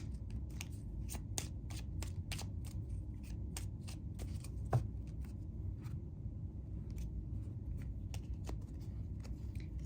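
Tarot cards being shuffled by hand, a steady run of crisp riffling snaps and soft papery slides that repeat through the whole stretch at close range, with no talking over them.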